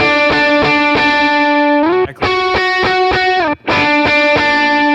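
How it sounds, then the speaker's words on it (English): Heavily distorted electric guitar plays bright, buzzy sustained chords with quick rhythmic restrikes. Two brief dropouts interrupt it, and the tone stays loud and harsh throughout. "laser guitar tone that you can hear in modelers"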